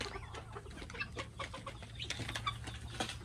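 Guinea fowl clucking on a farm, a busy stream of short, close calls repeating over a low steady hum.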